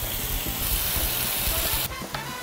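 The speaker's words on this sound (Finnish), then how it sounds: "Sitten ei muuta kuin pihvit pannulle." Burger patties frying in a pan, a steady close sizzle and hiss with a sudden louder burst of spitting fat toward the end as more meat hits the hot surface.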